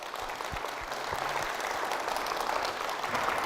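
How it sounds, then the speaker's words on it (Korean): A church congregation claps in welcome, a sustained, moderately loud round of applause with a few low thumps near the start. "박수로 모시겠습니다."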